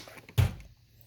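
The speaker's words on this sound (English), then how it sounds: "So now I have a supply drawer." Tool box supply drawer opened in a workshop, a single short thunk with a brief slide, close and fairly loud against a quiet room.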